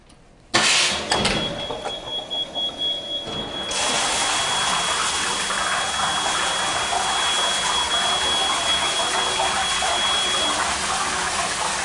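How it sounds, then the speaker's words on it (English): A deluge valve in a Viking double interlock preaction sprinkler system opens with a sudden burst, then water rushes loudly through the pipes in a steady, hissing flow that keeps going. "Now the deluge valve is activated."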